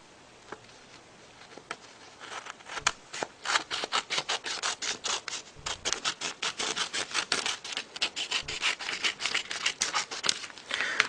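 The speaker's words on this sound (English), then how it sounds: "you want to cut off this excess that you have here" Scissors snip through excess origami paper for a paper balloon water bomb, a long run of quick, crisp cutting strokes close up, steady and rhythmic with no talking.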